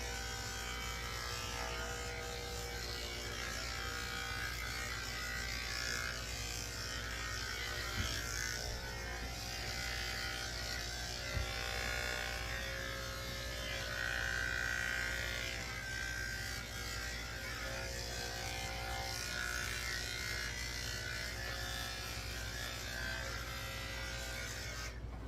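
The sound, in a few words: electric dog clippers trimming toy poodle with blade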